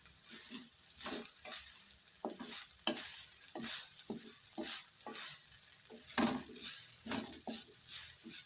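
A spoon scrapes and stirs rice in a pan in an irregular run of close, distinct strokes, evening out coconut-chilli spice rice made for a lunch box, with a faint sizzle underneath and no talking.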